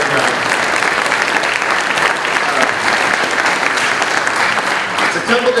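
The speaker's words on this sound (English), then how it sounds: "If we could give her a big round of applause." Loud, full applause fills a school Veterans Day program hall, a thick, even wash of clapping from a large audience that holds steady without letting up.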